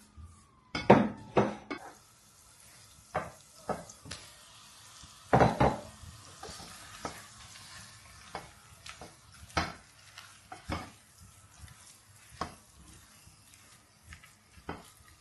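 Beef frying in a home kitchen pan, with a run of sharp metallic clinks and scrapes from a utensil stirring against the pan, irregular and close, over a faint low sizzle, with no talking.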